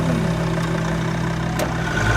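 A car engine idling steadily at close range, a constant low rumble with a brief roughness midway and a slight lift near the end, loud and without talking.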